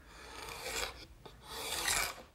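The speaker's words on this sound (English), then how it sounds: "scrape off any of the excess glue that's squeezed out between the boards. And to do that, I'm just going to use a paint scraper" Paint scraper rasping excess squeezed-out glue off glued wooden boards for a drop leaf table, two close scraping strokes with a short pause between them.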